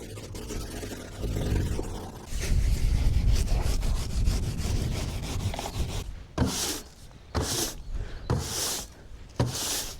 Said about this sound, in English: we're using just a normal orbital sander, going 60 grit